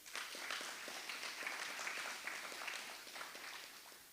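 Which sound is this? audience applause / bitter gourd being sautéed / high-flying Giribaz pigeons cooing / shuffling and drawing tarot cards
audience applause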